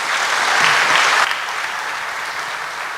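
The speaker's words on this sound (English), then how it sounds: "big round of applause from everyone" A hall full of students at a university talk breaks into loud, close applause, dense for about a second before easing into a softer, steady clatter of clapping.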